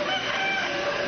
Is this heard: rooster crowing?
yes